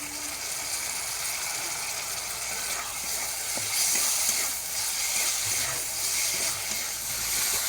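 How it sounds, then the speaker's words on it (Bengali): Chopped tomatoes with salt and turmeric are sautéed in a pan, giving a continuous close sizzle and frying hiss with faint scraping and stirring clicks scattered through it, and no voices. "লবণ কুচানো টমেটো দিয়ে ভালো করে কষিয়ে নেব"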